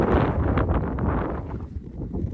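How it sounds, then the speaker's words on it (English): Strong gusty wind buffeting the microphone at sunset on the Pacific Crest Trail, a loud broadband roar that surges and eases slightly over a couple of seconds. "It's very windy."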